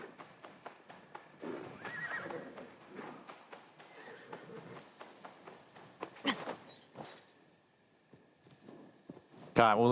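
Horse hooves clop along a path in Assassin's Creed Shadows, a steady run of soft, irregular footfalls under the game's ambient sound, with a sharper burst of noise near the end.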